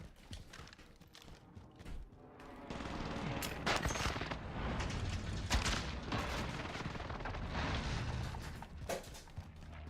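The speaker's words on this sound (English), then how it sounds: "Enemy precision airstrike." An enemy precision airstrike in Call of Duty Warzone on the Caldera map, heard as sustained rattling blasts and rapid gunfire-like bursts that swell after a couple of seconds and continue loudly throughout.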